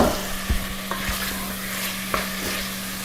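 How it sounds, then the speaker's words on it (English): Onions sautéing in a pot with pesto, sizzling close with scraping stirs and a few soft knocks of a utensil; no voices. "And I will add my onions at this point."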